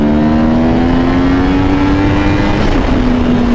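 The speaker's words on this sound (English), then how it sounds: "I love that acceleration." Yamaha R1 motorcycle with a new 520 chain and minus-one front sprocket accelerating on a cold road: a loud, steady engine whine rising slowly in pitch over heavy wind rush, recorded on the bike, no talk.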